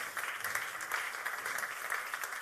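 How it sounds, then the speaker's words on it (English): An audience at a strategic forum panel claps for a panelist, dense steady applause of many hands filling the room, even and sustained throughout. "An applause."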